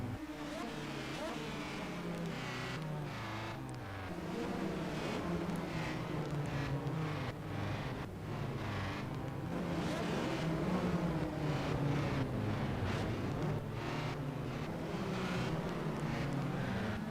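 Ford and Chevrolet race cars circle the track at Portland, engines droning loud and continuous with rising and falling pitch as they pass, a commentator talking over the roar throughout.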